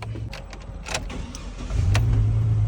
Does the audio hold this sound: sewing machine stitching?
no